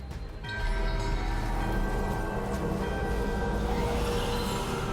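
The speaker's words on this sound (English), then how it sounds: "The magic bell worked." A magic bell rings in the fantasy video game Dragon Age: The Veilguard, striking once and then sustaining a steady, resonant metallic tone over a low ambient rumble.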